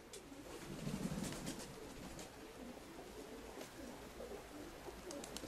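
Pigeons coo softly in a pigeon keeper's loft, low murmuring calls repeating over a faint, steady background, fairly distant and quiet.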